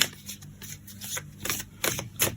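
Tarot cards are shuffled by hand in quick, soft riffling bursts, several short flurries of papery slaps and flutters close by and fairly quiet.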